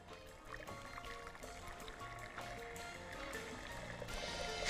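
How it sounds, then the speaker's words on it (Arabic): Hot water pours steadily into a cooking pot in a kitchen, a faint continuous gurgling stream that slowly builds in level as the pot fills. "عشان احط مية سخنة على طول"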